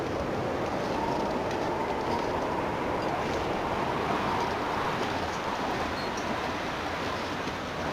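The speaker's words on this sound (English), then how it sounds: "It looks like, sounds like the wind is dying down, actually." Steady, dense wind noise in the survival game The Long Dark, a broad continuous rush that holds fairly even and eases slightly toward the end.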